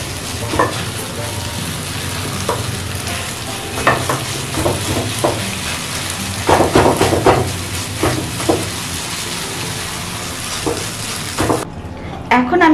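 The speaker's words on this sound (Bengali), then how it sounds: "এইভাবে আমি আরও পাঁচ মিনিট নাড়াচাড়া করব মিশ্রণটা যেন আরও শুকনো ঝরঝরে হয়ে যায়।" A thick moong dal halwa mixture is stirred and scraped around a pan as it dries, giving repeated close scraping strokes over a steady soft sizzle, with no talking.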